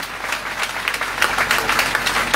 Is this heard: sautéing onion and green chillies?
no